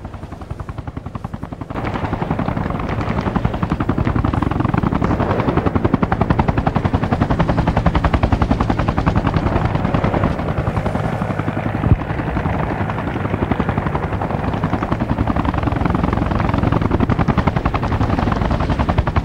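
Sustained machine-gun fire in a Vietnam War battle in Arma Reforger crackles in dense rapid bursts under the loud, constant thudding drone of a nearby helicopter.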